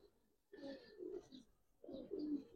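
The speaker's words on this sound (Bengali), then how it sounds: "কবুতর দুটো আপনি দেখেন মাশাআল্লাহ" A pair of pigeons coo softly nearby in two short bursts of low, throaty, warbling calls separated by a brief pause.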